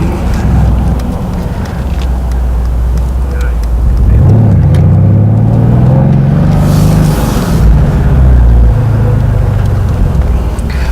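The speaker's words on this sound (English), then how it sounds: "I put it in Sport Plus mode so that you can hear the exhaust." Exhaust of a 2018 Mercedes-Benz C63S AMG in Sport Plus mode roars close and loud, swelling into a rising rev midway before easing back to a steady drone, with wind rumble throughout.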